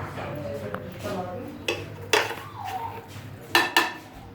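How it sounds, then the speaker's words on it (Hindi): Sifted flour is mixed into beaten eggs in a bowl for a fruit cake, with a spoon or whisk scraping and clinking against the bowl in several sharp knocks amid softer stirring, close and fairly quiet. "अब मैं इसमें अंडों में इसको मिक्स करती हूँ।"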